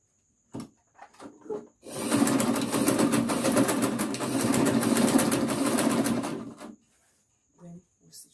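A sewing machine stitching fabric for an A-line gown, humming steadily and loudly for about four seconds, with brief handling knocks before and after.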